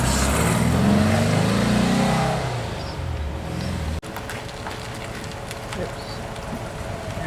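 A Porsche 356 engine runs close by, a loud, rising rumble in the first seconds that settles into a steadier, quieter drone after a sharp break midway, with faint voices and background noise.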